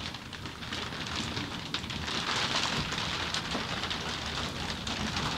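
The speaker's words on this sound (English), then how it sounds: "And it's really coming down outside now. That rain is really heavy." Heavy rain pours down outside in a steady, dense hiss with no break, loud and close, with no talking over it.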